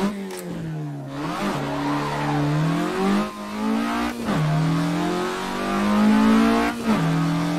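A Suzuki Cappuccino, a small car with about 75 horsepower, accelerates hard with its engine note climbing through repeated pulls, each rise broken by a brief dip at a gear change. It is loud and close throughout.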